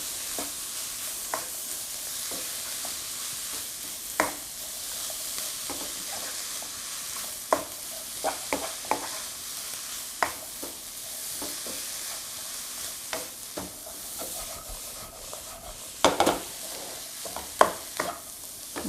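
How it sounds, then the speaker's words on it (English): Vegetables being stirred and shaken in a pan while cooking for sweet corn fritters with avocado salad: a steady soft sizzle with scattered scraping and clinking spoon strokes, no talk. "A bit of a stir and a shake."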